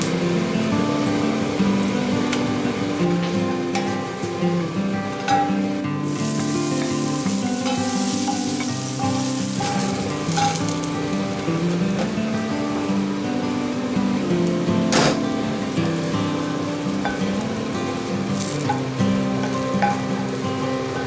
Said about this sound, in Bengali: জিরে, শুকনো লঙ্কা, পেঁয়াজ, এই যাচ্ছে ফোড়ন।